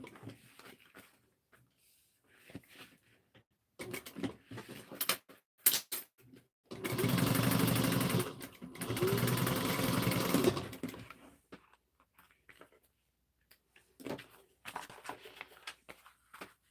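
Sewing machine topstitching fabric a quarter inch from the edge in two sustained runs of steady whirring stitching, separated by quiet gaps and lighter handling clicks of fabric and machine.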